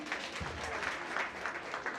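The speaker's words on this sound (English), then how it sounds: "I told you to clap for her, and she did it" An audience applauds a speaker, a soft, steady wash of many hands clapping at a moderate distance, fairly quiet and unbroken, with faint voices underneath.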